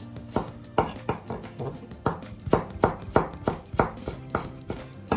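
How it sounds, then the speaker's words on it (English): A knife julienning carrots into thin matchstick strips for a chicken and vegetable stir fry, heard as a steady run of sharp, close taps on the cutting board, roughly a dozen evenly spaced strikes with no talking. "I'm just going to cut in what we call a julienne"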